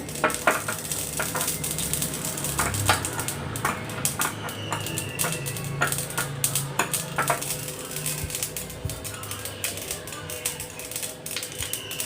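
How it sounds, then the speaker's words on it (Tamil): Mustard seeds spluttering in hot oil in a pan, a continuous sizzle dotted with many sharp crackling pops at irregular intervals, fairly close and steady throughout. "கடுகு நல்லா புரியுது"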